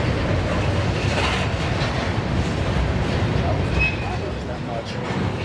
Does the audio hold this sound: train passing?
yes